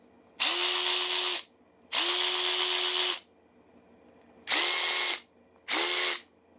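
A cordless ratchet, an older brushed model, whirs in four separate bursts of about a second each, each starting with a brief motor spin-up. The whine is loud and close, with pauses between bursts and no talking.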